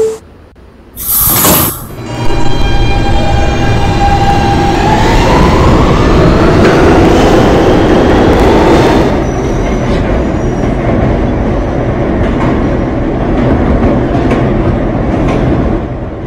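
An E subway train pulls out, a loud burst of noise giving way to high, sustained wheel squeal on the rails, then steady rumbling car noise as it gathers speed.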